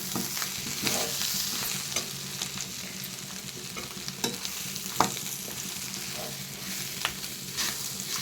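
A spatula scrapes and stirs chicken fry with coriander and curry leaves in a sizzling pan, steady frying hiss with repeated clinks and scrapes of the utensil close up, no voices.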